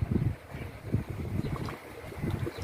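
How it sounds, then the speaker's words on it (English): Homemade mango and pineapple wine glugs and splashes as it is poured from a fermenter into a bottle, a close, uneven liquid gurgle lasting a few seconds with no talk. "So we'll decant this into the bottle and we pour it"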